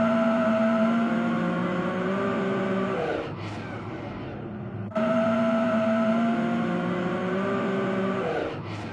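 An AI-generated sound effect of a car driving fast gives two similar passes. Each is a loud, steady engine whine that drops away near the end, with a short quieter gap between the passes.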